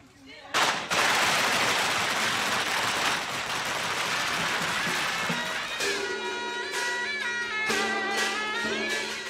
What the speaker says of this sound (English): got you some firecrackers.